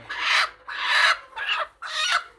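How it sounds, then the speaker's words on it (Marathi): Several low, raspy clucking bursts from village hens sitting on eggs, close by, coming in four drawn-out pulses with short pauses between them. "आमच्याकडे कोंबड्या अंड्यावर बसलेल्या आहेत"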